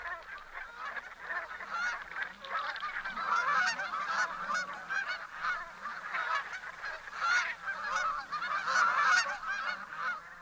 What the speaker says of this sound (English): the first geese arrive